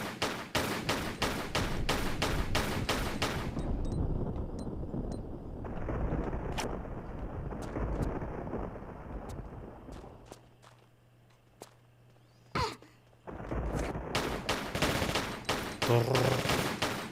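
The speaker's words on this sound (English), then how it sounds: "I will exchange bullets with you until you fall over" Gunfire from the video game Tomb Raider: The Last Revelation, with dense bursts of rapid shots at the start and end, sparse single shots in the middle and footstep sounds throughout.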